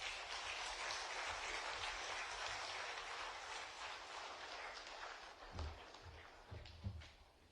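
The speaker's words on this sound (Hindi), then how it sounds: "एक बार पुनः जोरदार तालियों से अभिनंदन।" A live audience at a chief minister's event in Pune applauds after a speech, a dense, steady wash of clapping that slowly thins out toward the end, heard at a moderate distance with no speech over it.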